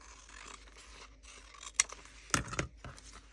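Scissors make a few quick, faint snips through junk journal paper, with two sharper cuts standing out against quiet handling noise.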